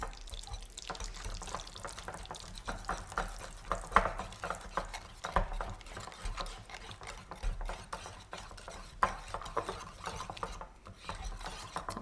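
Homemade mayonnaise with roasted garlic being stirred in a bowl, a wet, sticky squelching and scraping that keeps up in an uneven rhythm for the whole stretch, close by and moderately quiet, with no voices.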